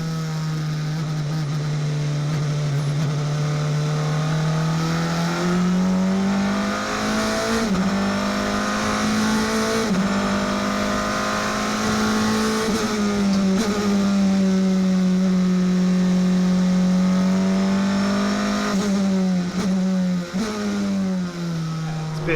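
A Praga R1 race car, a high-downforce, powerful single-seater like a Formula 3 car, drives hard on a track, its engine loud and close, revving up and down through repeated gear changes and throttle lifts with no talk.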